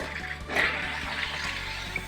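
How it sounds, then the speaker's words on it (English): A SodaStream Revolution home soda maker carbonates water with a single loud gassy hiss that swells after a brief pause and then fades into a softer steady rush, close and without talk. "We're adding carbonation to the water right now."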